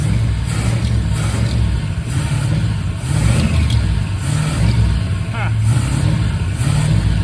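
A cold 1979 Chrysler 300 engine fitted with a rebuilt Thermoquad carburetor idles steadily and loudly throughout, with a low rumbling hum and slight surges, while a person talks over it.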